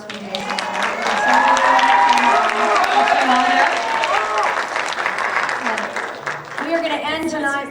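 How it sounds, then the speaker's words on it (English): Applause from an audience at a school band concert, starting strong and fading as a voice talks over it through most of the stretch. "Please give Jose Molina another round of applause"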